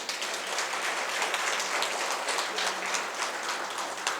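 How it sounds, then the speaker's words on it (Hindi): An audience at a teachers' training session claps loudly, a dense, steady wash of many hands that sustains evenly the whole time with no voices over it. "अगर हृदय मजबूत करना चाहते हैं तो एक बार बजाइए जोर से ताली।"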